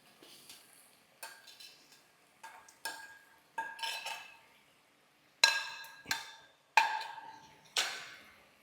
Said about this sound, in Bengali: এবার এটা ভালো করে একটুখানি নাড়তে হবে।